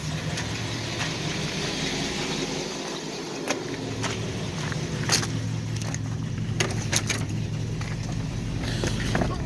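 A Buick engine runs after a cold start in 25-degree weather, a steady low idle rumble with occasional clicks and taps over it, fairly close and continuous.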